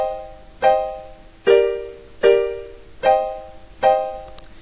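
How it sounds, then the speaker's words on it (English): Reggae-style piano chords struck short and staccato, five evenly spaced offbeat stabs that ring briefly and decay, played alone and close. "what I was doing there is playing chords in a staccato fashion"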